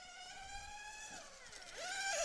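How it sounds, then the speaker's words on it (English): A high-pitched, buzzing nitro engine of a 1/10 scale RC race car whines steadily, its pitch swooping up and down as it revs hard at its limit, growing louder toward the end. "As you can hear, also Tony start to be on the limit with the engine, but the car looks more stable."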